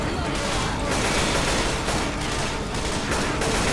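Dense gunfire in the video game Left 4 Dead 2 on the Crash Course map, a loud continuous fusillade of rapid shots throughout, with a voice talking over it.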